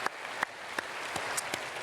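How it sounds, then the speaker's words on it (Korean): A church congregation applauding to welcome new members at a Sunday service, a dense steady wash of clapping from a large crowd that fills the whole short stretch with no voices over it. "크게 박수로 환영하겠습니다"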